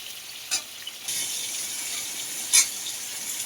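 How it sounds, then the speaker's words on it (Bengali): Steady hiss of pointed gourd frying in hot oil, with a couple of brief louder scrapes as it is turned; no voices. "পটলটা ভালো করে নেড়ে ভেজে নেবো, এদিক ওদিক করে, মানে সব দিকে ভাজাটা হয়"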